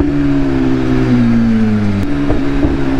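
A BMW S1000RR sport motorcycle engine runs close by with a steady, throaty drone, dipping slightly in pitch before settling, with no voices.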